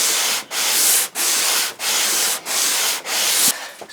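A Temu Hong Kong style wooden hand plane shaves wood in six even, rasping strokes, each a loud, close hiss broken by a short pause as the plane is drawn back.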